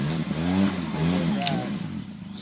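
Polaris RZR 800 with newly installed suspension plays in a mud pit, its engine droning and revving in rising and falling tones nearby while the tires churn slowly.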